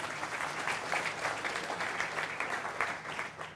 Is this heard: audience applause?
yes